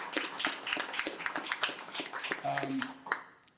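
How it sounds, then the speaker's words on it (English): An audience at a veterans' conference applauds with quiet, scattered clapping, while a voice speaks briefly partway through and the claps taper off at the end. "Could you please give them a round of applause"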